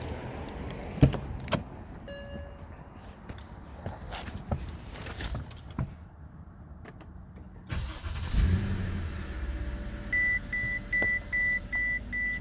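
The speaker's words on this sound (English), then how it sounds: "I'll turn on the car so you can see what I'm talking about." A Mercedes S550 W221 is switched on, with electronic chimes and beeps sounding over the car's interior hum and a few clicks and thumps from the controls, all close by and with no one talking.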